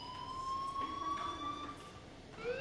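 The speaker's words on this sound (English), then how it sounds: "Hey, do you hear that fire alarm?" An electronic fire alarm sounds in the video game Life is Strange, a steady high tone with faint overtones that holds throughout at a low, distant level with no talking.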